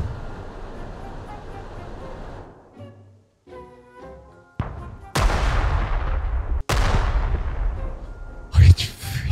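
Gunfire and explosions in the video game World in Conflict: a rumbling battle bed gives way to several sharp, loud blasts with long decaying tails, spaced a second or two apart.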